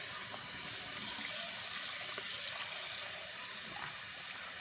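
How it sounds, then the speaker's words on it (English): Cold tap water runs steadily over pasta in a strainer while pasta is being drained for baked ziti, a continuous close hiss of pouring water with no talking. "I have cold water running right now, so I'm going to strain it."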